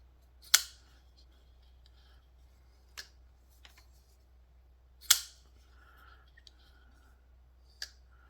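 Petrified Fish PFP02 folding knife with carbon fiber handle and D2 blade being flicked open and dropped shut, a few sharp isolated clicks and snaps spaced seconds apart in a quiet room.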